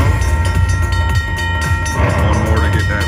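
The golden train feature of a Railroad Riches slot machine in a casino plays a loud, continuous rumble of a rolling train with rhythmic clacking and sustained horn-like tones.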